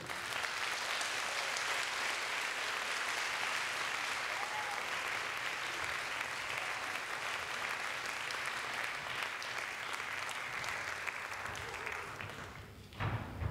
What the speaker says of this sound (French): je vous demande un tonnerre d'applaudissements pour les encourager